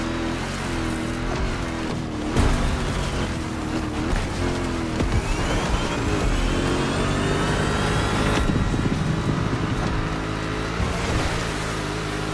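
A Dodge Hellcat engine racing in The Crew Motorfest, a loud continuous roar with pitch sweeps during an overtaking run, dense and unbroken throughout.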